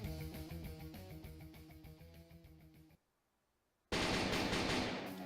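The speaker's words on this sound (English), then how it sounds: "the sound of Shido's constant gunfire was enough to make me understand what he was trying to do" Sustained rapid gunfire from the visual novel game Dies Irae, a dense rattling burst for about three seconds, a sudden silence, then a loud, harsh wash of noisy blasts resuming.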